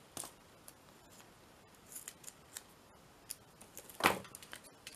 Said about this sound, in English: Let's pop a little bit of tape on them.